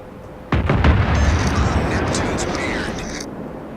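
A naval gun salvo from the battleship North Carolina in World of Warships booms at full loudness, then a long heavy rumble rolls on for about three seconds before fading.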